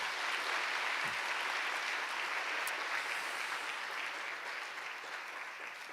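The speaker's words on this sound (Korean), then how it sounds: "자, 박수 한번 하겠습니다." Church congregation applauding a family at a Sunday service, steady broadband clapping from a crowd throughout, slowly tapering toward the end.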